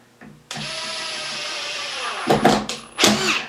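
A Ryobi brushless power drill-driver whirs steadily at close range for a couple of seconds, then labors and stutters in short bursts as it drives a screw in, the bit skipping.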